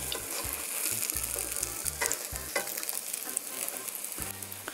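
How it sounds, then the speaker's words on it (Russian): Potato zrazy stuffed with meat and mushrooms fry in a pan with a continuous loud sizzle and crackle, close up, broken by a few low knocks as the patties are turned. "Переворачиваю их на обратную сторону и обжариваю"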